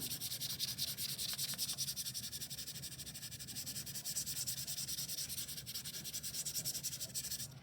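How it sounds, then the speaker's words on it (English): Charcoal rubbed by hand onto a collage laid over a clay slab, a continuous close, rhythmic scrubbing and rasping with a steady back-and-forth pulse that does not stop, and no speech. "I'm going to rub the charcoal in"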